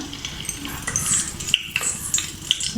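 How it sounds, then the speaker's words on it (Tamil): Bay leaf dropped into hot ghee for mutton biriyani, giving a steady close sizzle and frying crackle with small stirring and utensil clinks, no voices. "நெய் காஞ்சோடனே நம்ம ஒரு பிரிஞ்சி இலை போட்டுக்கலாம்"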